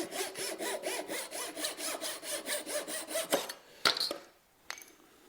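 A handsaw cuts along a marked line in wood while a classical guitar is being built, making steady rhythmic rasping back-and-forth strokes close up, followed by a couple of sharp knocks.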